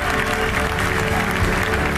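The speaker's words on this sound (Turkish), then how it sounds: "Tüm salon ayakta alkışladı." A full hall gives a standing ovation at the Ballon d'Or ceremony, a dense and continuous wash of crowd applause, loud and steady throughout.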